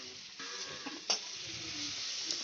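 Pointed gourd pieces frying in hot oil with turmeric and salt, a steady close sizzle with a few light stirring clinks and scrapes as the pieces are lifted from the pan.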